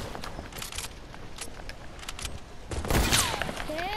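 Shotgun blasts in a first-person shooter, a burst of sharp game gunfire near the middle after a run of quieter clicks and ticks, with a rising whine trailing off at the end.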